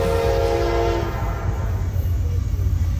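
A Norfolk Southern train on the Reading Line at Macungie, Pennsylvania, sounds its horn loudly and close by for about a second, then rolls past with a steady heavy rumble of wheels and cars.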